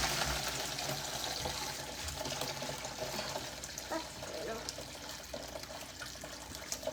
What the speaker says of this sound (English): I'm just going to start dumping my broth through the strainer